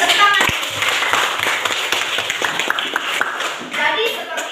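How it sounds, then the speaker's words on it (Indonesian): A group of people in a classroom setting clap their hands in a scattered, uneven burst of applause, moderately loud and close, with voices talking over the claps. "Oke, luar biasa, tepuk tangan."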